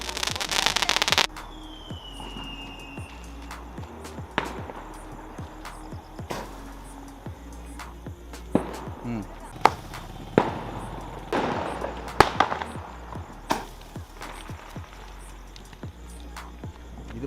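A palm tree firecracker at a Diwali celebration, going off outdoors with an initial loud rushing burst followed by scattered crackles, pops and sharp bangs, some near and some farther off, with occasional faint voices.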